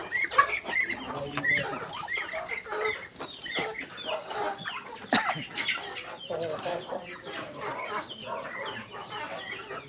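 Pet ducks fuss and chatter close by in a busy, continuous run of quacks and clucking calls, with other poultry mixed in.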